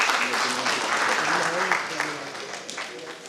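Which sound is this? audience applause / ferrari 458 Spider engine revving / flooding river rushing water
audience applause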